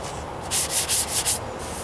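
Fine-grit sandpaper rubs over the painted trunk lid of a 1998 Toyota Corolla in about four quick, close, hissing back-and-forth strokes, with a soft scrape just before and a faint one just after.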